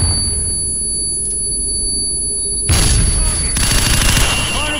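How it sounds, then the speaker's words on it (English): Call of Duty 4 training course: a flashbang goes off followed by bursts of gunfire, loud and close, over a constant electronic game hum. "Hit the targets! Flashbang through the door!"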